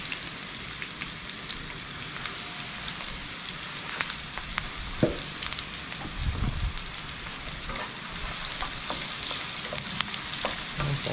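Pepper sautéing in a pan makes a continuous close sizzle with scattered crackles, punctuated by a few louder stirring knocks and scrapes.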